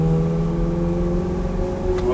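Ferrari engine running and warming up on a road near Sancerre, a steady loud mechanical hum with a strong, even tone throughout and no revving peaks.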